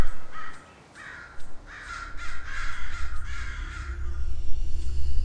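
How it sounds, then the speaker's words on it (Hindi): Crows caw in the video game Raji: An Ancient Epic, a run of harsh repeated calls at moderate distance over a low game ambience rumble that grows toward the end. "कौवे की काँव काँव कर रहे हैं।"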